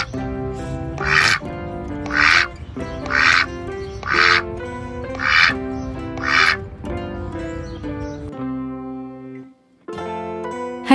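A farm duck quacks loudly and close, giving a run of about six raspy quacks at a steady pace, then a lower call near the end.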